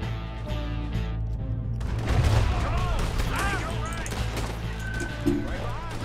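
Scattered gunshots and crashes during a bank robbery mission in Red Dead Redemption 2, irregular bangs over game music and ambience, with someone talking over the action.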